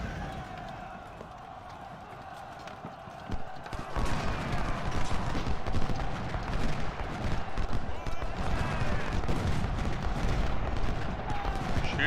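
A Civil War battle at Shiloh in Ultimate General: Civil War, with musket and artillery fire forming a dense, continuous crackle and rumble that swells louder partway through, while voices talk over it.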